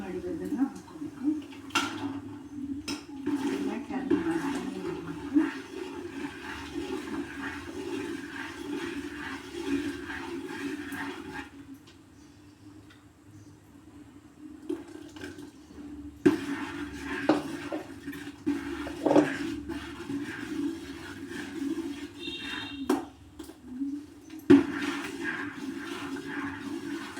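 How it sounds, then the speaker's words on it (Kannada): Ground rice batter is poured into boiling water in a pot and stirred for akki sandige, giving soft sloshing, scraping and occasional metal clinks of a spoon against the vessel, close by and moderately loud, with a quieter pause midway. "ನೀರು ಕುದಿಬೇಕಾದ್ರೆ ನಾವು ಈ ಮಿಕ್ಸಿ ಮಾಡಿರೋದನ್ನು ಹಾಕೋಬೇಕು."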